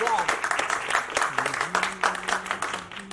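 At a debut album event for a singer, the crowd gives loud applause, with bursts of clapping mixed with voices and some music underneath.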